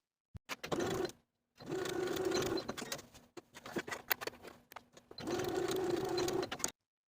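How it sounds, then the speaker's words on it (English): A sewing machine stitches along the bottom edge of a garment facing for a 1960s tie-collar top, running in three steady bursts with short pauses between, close and alone. "we're going to sew along the bottom edge of the facing"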